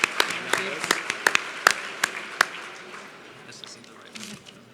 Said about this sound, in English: just out of respect, just an applause